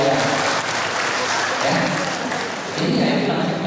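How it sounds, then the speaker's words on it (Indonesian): A seminar audience in Kapuas claps steadily in sustained applause for several seconds, dipping briefly before swelling again, with a voice faintly audible beneath. "Tepuk tangan dulu"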